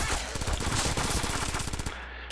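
Rapid gunfire in the top-down shooter Crimsonland, a fast steady stream of loud sharp shots rattling for about two seconds before cutting off.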